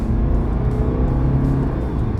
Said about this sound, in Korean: 스포츠 모드, 방지턱 한번, 급가속